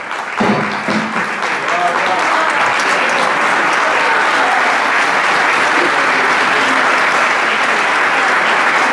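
A large audience breaks into sustained, loud applause for a priest at a diocesan missionary congress, a dense wash of clapping that holds steady for the whole stretch with a few voices mixed in.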